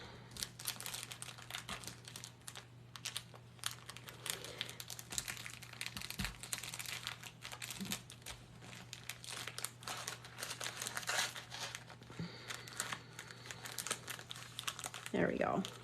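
A candy bar wrapper is folded into a crinkly plastic bag, giving faint intermittent crinkling and rustling with small clicks, set against a low steady hum.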